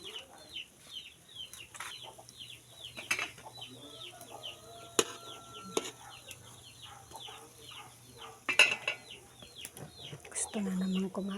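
Hungry backyard chickens cluck repeatedly in a quick, uneven chorus close by, with occasional louder squawks and a faint low hum beneath, while a person speaks at the end.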